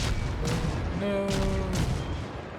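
High-explosive shells fire at a warship in the naval combat game World of Warships, a loud continuous rumble of distant booms under a steady whining engine tone.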